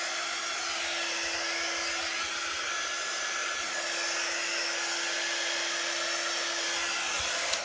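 A hair dryer blows steadily on a craft transfer, a continuous airy whoosh with a constant motor whine, loud and unbroken for several seconds.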